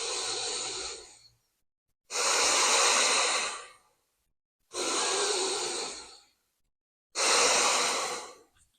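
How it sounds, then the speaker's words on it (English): Slow, deep human breaths: four long, even airy inhales and exhales, each lasting over a second, separated by short silences, close and steady with no talking. "Go ahead and take a couple more deep breaths in and out."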